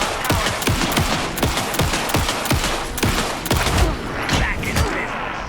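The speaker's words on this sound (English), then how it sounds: "Anderson, pin him down with gunfire for me to get the light on him." Rapid gunfire in the video game Alan Wake 2, a dense run of sharp shots at a quick irregular rhythm, loud and close, with shouted voices briefly over it.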